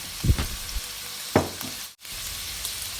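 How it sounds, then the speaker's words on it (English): Shrimp and garlic sizzle in a hot pan while being stirred, with a couple of distinct frying bursts and scraping strokes over a steady low hiss. "Stir shrimp and garlic until they get aroma."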